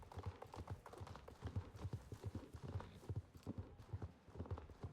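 Friesian horse hooves clip-clop steadily in Star Stable Online, a brisk, even walking rhythm of many footfalls at moderate volume over soft background.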